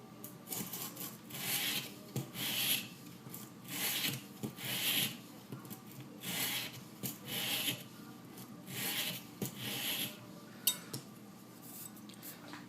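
A knife is sharpened on an Edge Pro Apex guided sharpener, giving repeated scraping strokes across the stone in a steady rhythm of about a dozen passes. Each stroke sounds close and distinct, with brief pauses between them and no speech.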